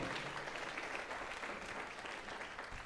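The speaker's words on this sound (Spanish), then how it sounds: "Dale un fuerte aplauso a la palabra de nuestro Señor y Salvador Jesucristo." A church congregation applauds in steady, dense clapping that fills the whole stretch without pause, close and fairly loud.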